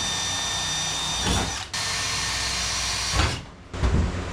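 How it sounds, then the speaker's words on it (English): Power drill whirring steadily as it drills holes in the roof of a 1954 rat rod car, stopping briefly twice and restarting, close by with no talking. "I'm sure it's normal to drill holes in the roof of your car."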